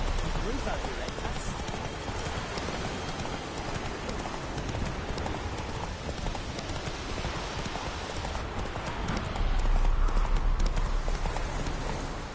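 Roach the horse galloping in The Witcher 3, hooves drumming steadily and close under rain-like ambience, with a brief louder surge near the end and faint voices in the mix.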